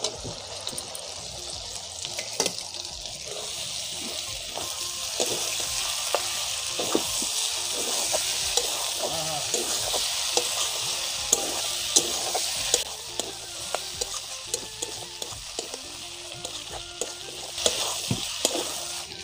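Young jackfruit and potatoes fry in spiced oil with a constant bright sizzle, while a utensil stirs and taps against the pan in irregular strokes, close and steady throughout.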